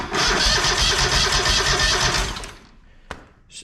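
The engine of a Walker MT mower cranks and turns over for about two and a half seconds on a low battery, a loud close rhythmic churn, then stops and leaves a small click and faint noise.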